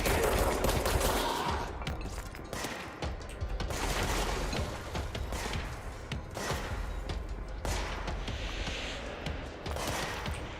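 Repeated bursts of gunfire in the video game Control, dense rattling volleys with heavy thumps, steady and close across the whole stretch without pauses.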